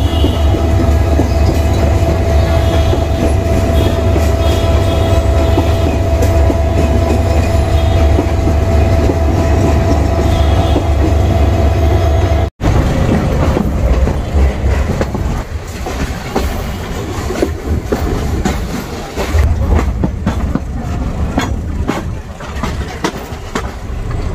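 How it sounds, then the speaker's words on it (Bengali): A steady, heavy rumble of a resting train engine idling at Kamalapur railway station, with clanks and a busy station hum. The sound drops briefly midway, then continues, rougher. "দেখতে পাচ্ছেন ট্রেনের ইঞ্জিন আর এটি ইঞ্জিনটা রেস্টে রয়েছে"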